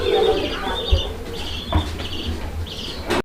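Pigeons for sale at a market coo in low, soft bursts, with a few chirps and a faint flutter nearby against a busy background, and no clear talking.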